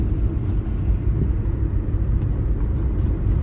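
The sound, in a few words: car engine after shifting into third gear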